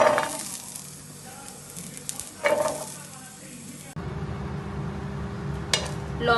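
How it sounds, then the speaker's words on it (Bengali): Green chilies and garlic frying in oil, a continuous close sizzle with occasional stirring scrapes; partway through the tone changes as the frying noise steadies and thickens. "এবার কাঁচা লঙ্কা আর রসুনগুলোকে ভেজে নেব।"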